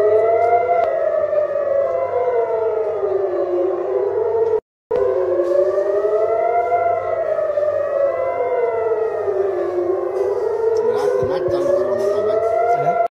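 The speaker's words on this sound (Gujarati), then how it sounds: "અહીંયા સાયરન વાગે ને રોકેટ આવે" Air raid siren wailing in Israel, a loud, continuous rising-and-falling tone that cycles steadily, cut by a brief gap near the middle before resuming at full strength.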